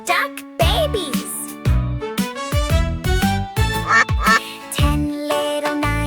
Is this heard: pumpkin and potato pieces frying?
no